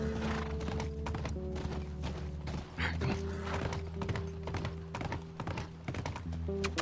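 Horse hooves thud in a brisk, even clip-clop during a horseback ride in The Last of Us, close and clear over a steady game soundscape, with a brief whinny-like sound partway through.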